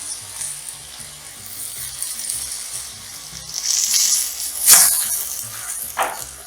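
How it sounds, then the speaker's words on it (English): Vegetables and black beans sauté in a pan with a steady, soft sizzle, broken by a few louder scraping stirs near the end. "And you want to let this saute now for about 1 to 2 minutes."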